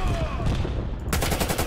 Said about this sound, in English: This gun seems pretty good. It's very fast rate of fire, this gun.